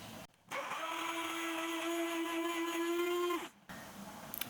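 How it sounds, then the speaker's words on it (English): A stick blender whirs through bulletproof keto coffee, starting abruptly, running at a steady high-pitched whine for about three seconds, then cutting off cleanly. "I'm just going to use my stick blender to blend all the ingredients"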